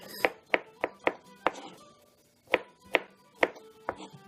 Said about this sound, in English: I'm going to julienne them up a little bit.